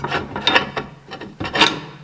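A metal nut being turned and threaded onto a tube on an old auction-find machine, close scraping and rasping strokes in uneven bursts of metal rubbing on metal.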